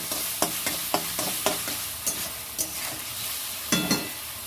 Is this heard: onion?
yes